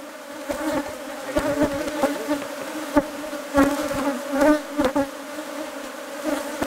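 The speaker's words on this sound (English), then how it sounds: "Before opening the hives, the bees are smoked to make them less aggressive." Bees buzz steadily around hives in Maputaland after being smoked, a dense droning hum with individual insects swelling louder as they pass close by.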